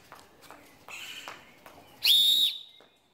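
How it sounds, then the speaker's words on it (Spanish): A shrill whistle blows once, a short, loud, piercing blast after a few quieter sounds, then stops. "Al escuchar el silbato, se detiene."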